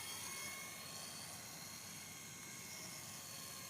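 A WLtoys V912 RC helicopter flies outdoors with a steady, unbroken rotor whir and motor buzz that stays even and moderately distant for the whole stretch.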